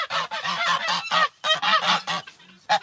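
Geese at an animal sanctuary honk loudly and close by, a rapid run of harsh, nasal calls in quick succession with brief pauses between bursts.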